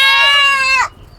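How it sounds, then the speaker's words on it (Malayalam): A goat bleats once, a long, loud, close wavering cry lasting nearly a second that cuts off abruptly into near quiet. "അതാണ് ആട്"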